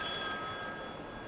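A telephone rings indoors in a home, a steady electronic tone held throughout, moderately quiet with faint room noise beneath and no talking.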